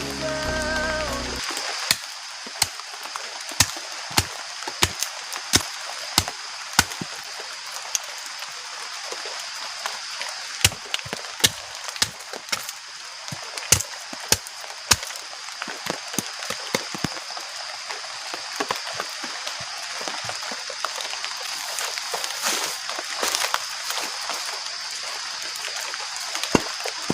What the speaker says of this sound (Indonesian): Oke teman-teman, sekarang masih hujan